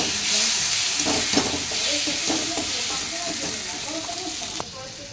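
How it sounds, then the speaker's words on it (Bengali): Egg curry being stirred as it fries in a pan: a continuous loud sizzle and hiss with a few soft scraping strokes, a louder clack near the end, and a voice talking faintly underneath. "একটুখানি ডিম কষাটা নেড়ে দিলাম"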